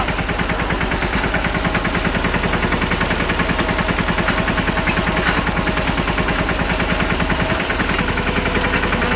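A tractor engine runs steadily through a sorghum harvest, its rapid rhythmic knocking continuous and loud at close range, with no voices.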